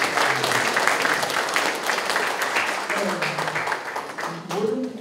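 Audience applause fills a book concert in the international conference hall of 3·15 Art Center, a dense, steady clatter of clapping that runs the whole time with a voice faintly mixed in.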